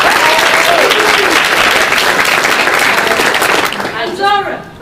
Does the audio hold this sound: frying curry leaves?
no